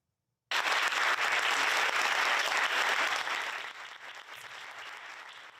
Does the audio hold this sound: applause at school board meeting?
yes